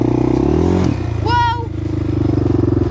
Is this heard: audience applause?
no